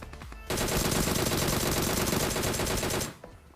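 Sustained rapid automatic gunfire from PUBG Mobile, loud and continuous for about two and a half seconds before cutting off abruptly.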